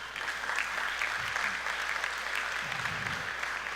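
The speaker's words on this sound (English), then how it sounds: "give yourself a clap for that one" Audience at a Chamber of Commerce breakfast meeting clapping for themselves, a brief even burst of many hands, moderately distant, with no talk over it.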